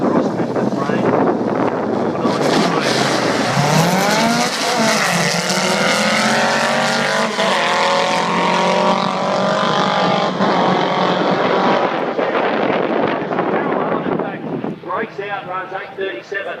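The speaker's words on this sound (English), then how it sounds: "the air-cooled 64 Beetle, up against Colin Mayman in the 72 model Beetle" Two air-cooled VW Beetles, a 1964 and a 1972 model, drag race at Warwick: a loud, sustained engine roar with rising revs and wind buffeting, with a commentator talking over it.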